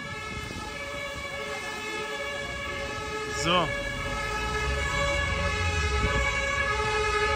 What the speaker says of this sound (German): Sirenen, Krankenwagen wieder, Feuerwehr,